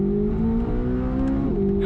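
A stiffly set-up performance car's engine revs steadily while driving, a sustained close harmonic drone with the pitch dipping briefly near the end as it shifts, then holding again.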